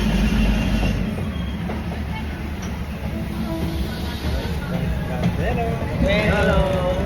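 A train rolls slowly through a folding market in Thailand with a constant low rumble, rail clatter and a few squealing wheel tones. Market voices and talk sit close over the noise throughout.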